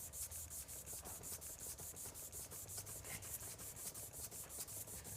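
Part being sanded on sandpaper laid over a granite surface plate: soft, rhythmic back-and-forth rasping strokes, about four per second, close and fairly quiet, with no voices.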